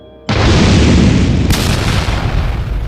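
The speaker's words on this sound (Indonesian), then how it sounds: "Ledakan energi menghantam langsung, menciptakan kawah besar" A black energy blast explodes with a sudden loud boom that swells into a heavy, roaring rumble, with a sharp crackling burst midway before slowly fading, no voices.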